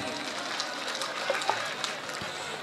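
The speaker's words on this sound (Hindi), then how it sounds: "ताली बजा दो भाई छोरा के लिए।" An audience claps at a live dance stage show, a dense continuous patter of many hands blended with crowd noise, moderately loud throughout.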